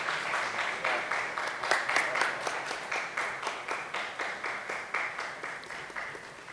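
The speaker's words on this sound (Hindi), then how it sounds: "आप सब तालियां बजाएंगे तो अच्छा लगेगा।" Audience applause at a formal event, a dense steady patter of many hands clapping at moderate distance, sustained throughout with slight rhythmic pulsing and fading slightly toward the end.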